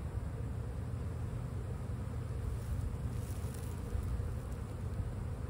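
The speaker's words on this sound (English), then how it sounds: "There's a couple bees on it." A couple of bees on a Layens hive frame, a faint steady buzzing hum over soft background noise, continuous and close with no speech.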